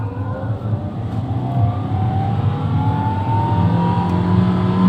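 The engine of a 2014 Toyota Etios Valco revs up to about 5000 RPM, a steady loud drone that climbs smoothly in pitch, heard from close by.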